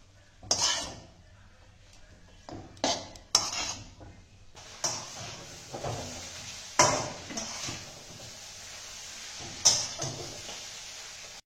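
A spoon scrapes and clinks against a pan as scrambled egg is stirred through hakka noodles. Sharp, irregular strokes rise over a faint, low sizzle, with short pauses between bursts and no voices.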